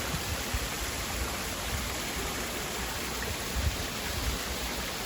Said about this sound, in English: And another waterfall over here.